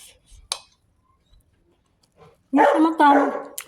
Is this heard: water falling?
no